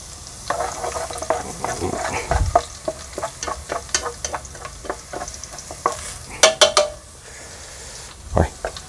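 Garlic frying in a pan, a steady close sizzle broken by clattering stirring scrapes and knocks of a utensil against the pan, repeating irregularly throughout.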